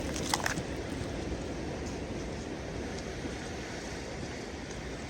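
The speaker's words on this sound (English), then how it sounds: "It's really cold and windy, as you can probably tell" Strong wind and surf on a cold, stormy beach, a dense continuous roar of breaking waves and gusting wind buffeting the microphone close up, with no voices.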